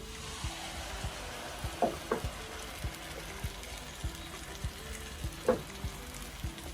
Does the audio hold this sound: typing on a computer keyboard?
no